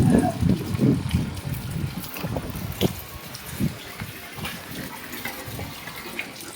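Water splashes and sloshes in uneven bursts while a German Shepherd dog is being bathed, loudest at the start and tapering into softer trickles and drips.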